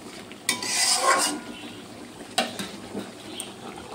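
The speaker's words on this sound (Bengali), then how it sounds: "তো মশলাটাও দিলাম, তার সাথে হলুদও দিলাম, ভালো করে কষিয়ে নেব।" Spices and turmeric being stirred in a pan while potatoes fry, with a couple of sharp utensil scrapes against the pan over a low, steady sizzle.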